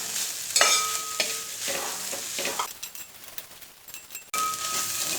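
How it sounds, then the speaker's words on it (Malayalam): Crushed meat for Kerala idiyirachi minced meat fry sautéing in a pan, a steady close sizzle broken by scraping stir strokes and a brief metallic clink, with faint bird calls in the background. "ഇനി ഇത് നന്നായിട്ട് ഇളക്കി അതിലുള്ള ജലാംശമെല്ലാം നന്നായിട്ട് പോകാത്ത വിധത്തിൽ വഴറ്റി കൊടുക്കുകയാണ് വേണ്ടത്."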